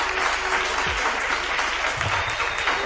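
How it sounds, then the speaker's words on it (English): Steady, dense applause from a crowd, clapping continuously at an even level throughout. "give her a round of applause"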